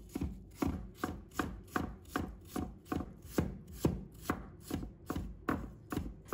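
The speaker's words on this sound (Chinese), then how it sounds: "全部削好后，把它切成片， 然后切成小块。" Peeled water chestnuts are chopped into slices and small pieces on a cutting board, a steady run of about fourteen crisp knife chops at an even pace, close and clear with no talking.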